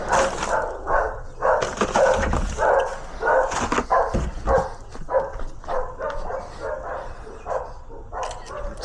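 Dogs barking repeatedly nearby, a run of sharp barks and yips in uneven bursts, loud and close, with some whimpering mixed in.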